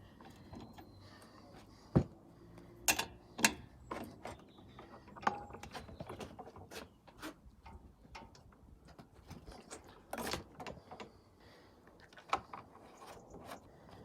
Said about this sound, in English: Putting the pull cord pulley back on again that I fixed in a previous video